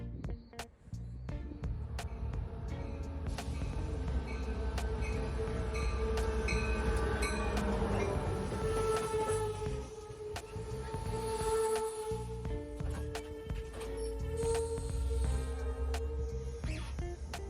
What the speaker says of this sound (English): a set of headlights appear about a mile down the tracks, arriving on track 1 right on time.